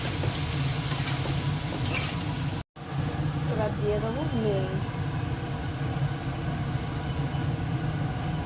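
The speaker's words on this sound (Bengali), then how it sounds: "এবার একটু কষিয়ে নেবে মশলাটাকে" Spice masala with a little chili fries in a pan with a steady, loud sizzle and hiss, broken by one brief cut. A person talks over the frying.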